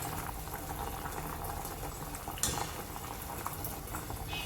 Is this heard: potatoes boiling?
yes